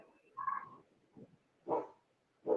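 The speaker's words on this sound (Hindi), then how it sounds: "मेरी डॉगी भौंक रही है" Pet dog barking indoors at home, three or four short, muffled barks spaced out over a couple of seconds, somewhat distant and faint with no talk over them.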